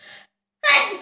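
A self-induced sneeze from a person in a repeated sneezing challenge. A short soft vocal sound comes first, then a pause, then one loud, close, breathy sneeze burst.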